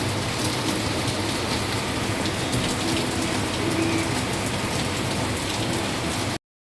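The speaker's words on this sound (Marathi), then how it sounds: "जोराचा झालाय पाऊस." A heavy monsoon-style downpour drums steadily on nearby surfaces, a thick, unbroken roar of rain with no voices over it.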